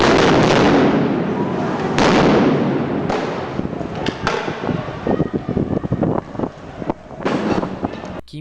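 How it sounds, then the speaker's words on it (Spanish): Stun grenades go off in a series of loud, sharp bangs, each followed by a crackling decay, with wind buffeting the microphone and scattered noise between blasts. "Granadas con fuerza de explosión. Producen un destello de luz y fuerte sonido."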